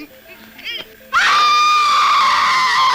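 A woman screams at night in the jungle of Kalimantan: a quiet stretch of faint background sound, then a sudden, piercing, sustained high scream that stays loud and close to the end.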